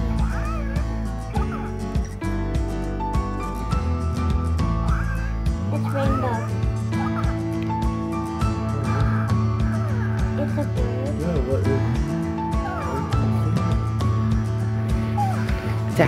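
An electronic Hatchimal toy creature chirps and coos in high baby-like sounds over a busy background of music and voices, fairly loud and continuous.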